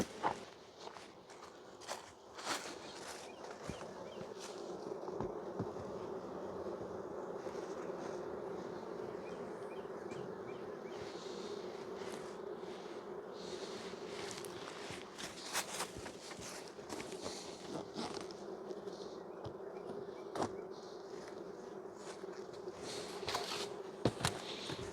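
Dense, steady drone of honey bees swarming around an open beehive, close and continuous throughout, with occasional clicks and rustles of handling and footsteps over the hum.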